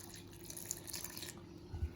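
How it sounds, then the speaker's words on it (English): About 250 ml of water is poured into sourdough starter in a mixing vessel, a quiet trickling pour that tapers off near the end, with no talking over it. "250 mils of water."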